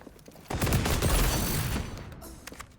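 Burst of shotgun fire in a first-person shooter video game, loud and close, with the blast decaying into a rumbling tail.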